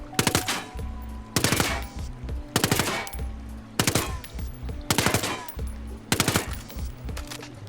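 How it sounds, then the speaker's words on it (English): Repeated bursts of PSG rifle fire in Ghost Recon Wildlands, six rapid volleys of cracking shots spaced about a second apart, loud and close over a constant low game hum. "Now this is the PSG with the lower handling statistic."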